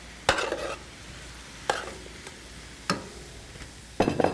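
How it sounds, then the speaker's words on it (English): Peppers, zucchini and celery sautéing in a pan for chicken cacciatore, a quiet sizzle punctuated by four or five distinct spatula scrapes and clatters spaced a second or so apart, close and without speech. "So now we're going to saute that a little more."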